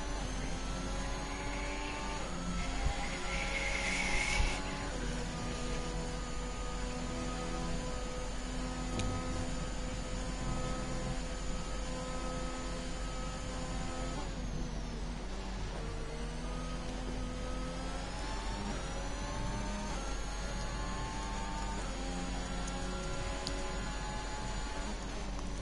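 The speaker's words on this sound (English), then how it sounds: "Let's just enjoy the engine sounds of the Alpine." An Alpine Formula 1 car engine in an F1 racing video game at Imola, heard as a loud, continuous high-revving whine with pitch climbing and dropping through gear changes, steady and without talk.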